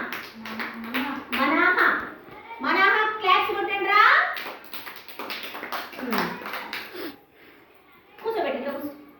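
Children in a classroom clap their hands in a few sharp, scattered bursts while young voices talk loudly over and around the claps.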